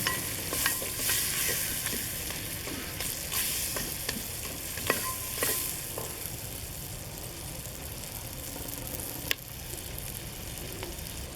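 Curried tripe (afval) with turmeric being stirred in a pot, a soft steady sizzle under scattered scraping strokes of the spoon, a few sharper clicks, close and fairly quiet, no talking.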